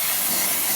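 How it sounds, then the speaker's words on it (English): Compressed air blasts sanding dust off a wooden blanket chest in one steady, loud, close hiss without a break. "Blow it off, all that dust, really well, the best you can with forced air."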